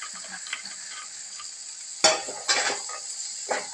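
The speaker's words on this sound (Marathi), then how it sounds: "मूग आणि हरभऱ्याला मसाला लागेल तोपर्यंत परतून घेऊ" Green moong and roasted chickpeas tossed with masala in a pan give a low, steady sizzle, broken by a few sharp scraping stirs near the end.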